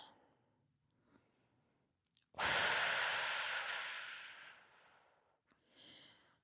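One long, deep exhale rushes out close to the mic during a glute stretch, loud and sustained before tapering off, followed by a shorter, softer breath.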